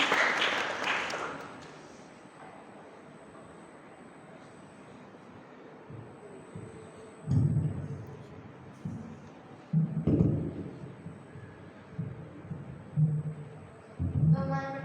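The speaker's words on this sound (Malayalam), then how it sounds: "വലിയൊരു കയ്യടി കൊടുക്കണം" An audience at a school felicitation ceremony breaks into applause that is loudest at the outset and quickly fades, followed by a quiet hall with occasional thumps and shuffling.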